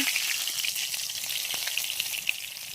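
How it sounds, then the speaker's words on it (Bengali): A bay leaf drops into hot oil and fries with a bright, steady crackling sizzle, a few sharper pops rising over the hiss, close and loud. "তেল গরম হয়ে গেছে, আমি তেজপাতাটা দিয়ে দিচ্ছি"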